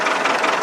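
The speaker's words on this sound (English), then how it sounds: "Let me get this tractor going" A tractor engine, either a Ford 6610 or a John Deere 7210, runs with a steady, rough mid-pitched knocking rumble, brief and close up with no one talking.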